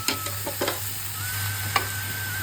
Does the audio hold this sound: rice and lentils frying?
yes